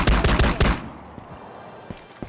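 Hip-fire gunfire in the shooter game Ghost of Tabor: a rapid, loud burst of several shots packed into the first moments, then quiet with a few faint clicks and thumps.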